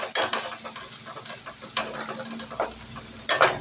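Sliced onions sautéing with turmeric powder in a pan, giving a soft, steady sizzle under repeated scraping and stirring strokes, with a few sharper clinks of the spoon against the pan near the end.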